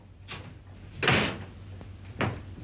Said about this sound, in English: Close that door.